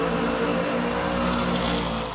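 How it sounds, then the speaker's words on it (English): Muscle cars at a drag strip produce a loud, continuous engine drone with steady harmonic tones, a sustained revving roar that holds level throughout and eases slightly at the end, with no talk. "enjoy the sights, the smells, the sounds of these muscle cars"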